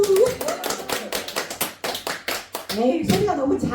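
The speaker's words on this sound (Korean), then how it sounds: "박수!" A Buddhist dharma-talk congregation breaks into a short burst of hand clapping, a spread of quick claps that rises and fades over a few seconds, with a voice speaking over it near the end.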